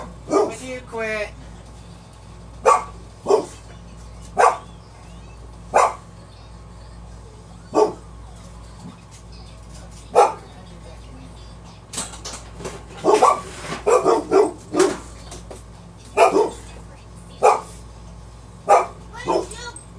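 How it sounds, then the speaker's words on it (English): Dog barking indoors in sharp single barks and short bursts, spaced irregularly across the stretch, with some creaking and a person's voice scolding in between. "Would you quit, dog?"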